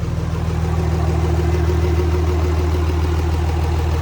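A Cummins 5.9 diesel idles steadily after its turbo was primed with oil, a loud, close, even chug with a deep rhythmic throb that holds without change throughout.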